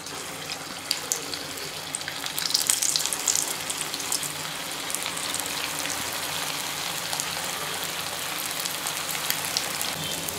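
Aloo tikki potato patties shallow frying in a pan of hot oil, a dense, steady sizzling hiss close up that grows briefly louder early on, then settles into an even crackle.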